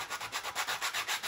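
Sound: coarse sanding block rubbing edges of a model display base

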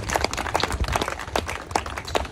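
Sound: congregation clapping for Jesus

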